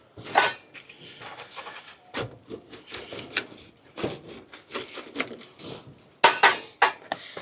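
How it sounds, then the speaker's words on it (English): A freshly baked capricciosa pizza, just off the peel, is sliced with a series of scraping, rasping cuts against a board, irregular strokes clustering near the end, with no talking. "Comes off the peel, and we're going to slice this one up."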